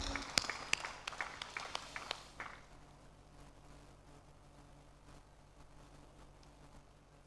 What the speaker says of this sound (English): Please support with a resounding applause for the entire event.